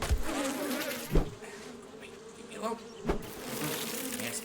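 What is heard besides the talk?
bees buzzing in video game 7 Days to Die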